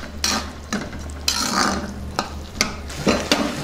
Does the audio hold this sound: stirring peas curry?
yes